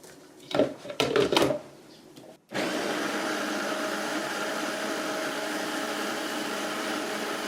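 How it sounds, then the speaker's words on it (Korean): A few short clatters and knocks, then a blender motor kicks in and runs loud and steady, grinding chopped chili peppers continuously until the end. "믹서기에 넣을 거니까 잘게 잘라주겠습니다."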